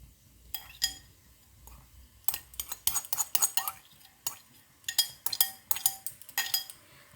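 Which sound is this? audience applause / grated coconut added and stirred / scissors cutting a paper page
grated coconut added and stirred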